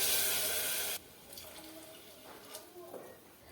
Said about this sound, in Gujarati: હવે તેમાં આપણે પાણી નાખી દઈશું